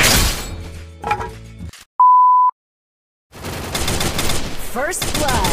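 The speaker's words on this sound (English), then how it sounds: "Heavy machine gun." Heavy machine gun fire rattles in the Free Fire video game as short, loud bursts, with a sharp electronic beep and a moment of silence between them, then denser rapid firing with clattering impacts.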